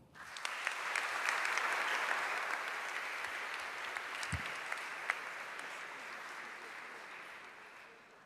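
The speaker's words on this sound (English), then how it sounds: "Let's give him an applause." An audience applauds at the blessing of an icon for public veneration in a church, a sustained crowd clapping that swells quickly, holds, then slowly fades, with a few louder individual claps standing out.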